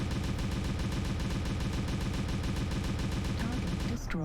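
Rapid autocannon gunfire from a mech in MechWarrior Online, a dense, steady stream of loud, evenly spaced reports that runs unbroken for several seconds.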